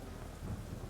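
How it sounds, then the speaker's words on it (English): A thunder rumble rolls through a rainy storm, a low, steady, fairly faint roar with rain hiss beneath and no voices. "Lightning cracked across the sky."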